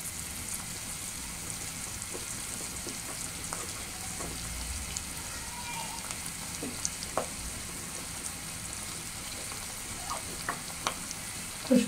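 Chopped garlic frying in hot oil in a pan, a continuous moderate sizzle with occasional light clicks and scrapes, ending in a short louder clatter.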